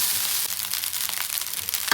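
Tempering sizzling and crackling in hot oil for leftover lemon-style rice, a steady close fry with sharp spitting pops throughout.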